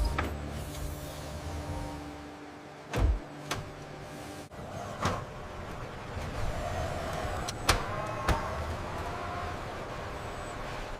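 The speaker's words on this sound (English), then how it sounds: "Advanced autonomous forklifts orchestrate the seamless movement of finished products." Autonomous forklifts moving pallets of finished ketchup inside a factory, a steady electric motor whir with a few sharp mechanical knocks and clunks, fairly close, no talking.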